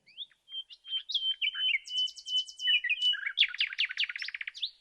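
A nightingale sings from a branch in a sequence of clear, high chirps, whistles and rapid trilled bursts, close and fairly loud, with no other sounds.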